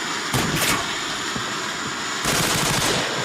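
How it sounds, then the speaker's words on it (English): Fireworks burst outdoors on a summer evening, with two sharp volleys of loud cracking explosions separated by a quieter stretch of rumbling and crackle. "Oh, that's a Florida"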